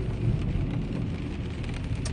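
Rain falls steadily on a car driving through Busan on a wet day, a dense, even hiss with the low rumble of the road beneath it and no voices.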